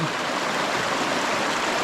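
River water rushes by in a steady, loud, broadband wash, a continuous nearby flow near a banana plantation with no talking.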